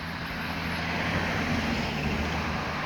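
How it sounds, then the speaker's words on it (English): Traffic on a road nearby gives a steady broadband whoosh from cars passing. It holds level throughout, with no voices. "There's a few cars that just kind of passed by"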